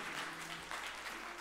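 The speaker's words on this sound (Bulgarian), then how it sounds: "много ви моля за аплодисменти за Александър Колев." Audience applause at the Sazvezdie national contest, a steady broadband patter of clapping hands filling the room for the whole short stretch, moderately loud and without speech.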